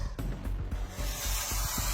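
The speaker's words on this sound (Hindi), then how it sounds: "ये गाड़ी को स्क्रैच कौन कर रहा है?" Sharp nails scraping and rasping against a car body, rubbing in uneven strokes with a few sharper scratches, faint and fairly close, with no voices.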